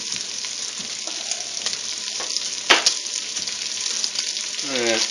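Butter and bacon sizzle steadily in a pan, a close crackling hiss with one sharper clink partway through and no talking.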